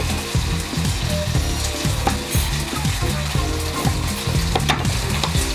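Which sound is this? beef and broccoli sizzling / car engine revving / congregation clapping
beef and broccoli sizzling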